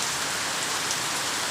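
Steady monsoon rain pours down in a dense, even hiss with no pauses, loud and close throughout.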